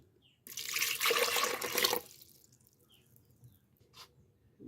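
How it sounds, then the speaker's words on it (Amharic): Water is poured into a glass in a single steady splash lasting about a second and a half, close and fairly quiet, followed by faint drips and small clinks in a hushed room. "በዚህ ብርጭቆ 2 ውሃ ነው የማደርገው።"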